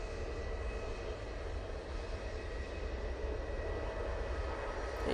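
IndiGo Boeing 787-9 Dreamliner arriving from Mumbai, a steady broadband jet roar that holds evenly and fairly strongly throughout, with no voices.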